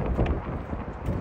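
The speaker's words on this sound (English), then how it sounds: "It's a bit windy" Wind buffets a microphone outdoors on a blustery day, a loud low rumbling roar that swells and dips for about a second with nothing else distinct.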